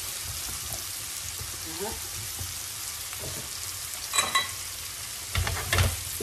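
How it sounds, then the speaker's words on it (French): Pears tipped into a hot pan for a pear meringue dessert, a steady close sizzle and frying hiss with a few clattering spikes near the end, a voice speaking briefly over it. "Et là, je vais venir verser mes poires."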